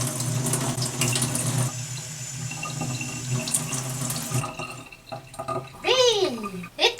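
Running tap water splashes into a sink as crystals are rinsed under it, a steady close stream throughout, with someone talking and a voice rising over it near the end.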